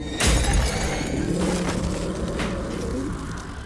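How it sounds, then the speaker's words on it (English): In a film scene, something pounds on a mirror and cracks the glass: a sharp shattering impact opens the clip, followed by further thuds and crackling strikes against a dark, rumbling background. "The group stands in front of the mirror as something pounds on it, cracking the glass."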